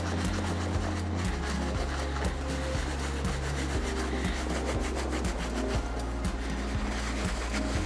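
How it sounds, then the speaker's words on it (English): A soft bristle brush scrubbing the sock liner of a sneaker, heard as continuous close rubbing and scratching strokes over a steady low background hum. "Just use the soft bristle brush again."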